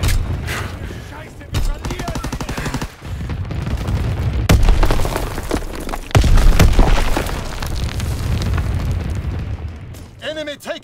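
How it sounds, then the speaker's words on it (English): Mortar rounds exploding in a WW2 shooter game, a series of deep booms and crackling blasts with gunfire, layered under game voices and shouting. "Sending mortar rounds!"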